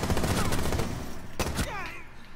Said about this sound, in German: Ja, zwei Schuss Pumpgun.